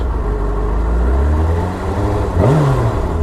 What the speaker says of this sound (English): if I give it some revs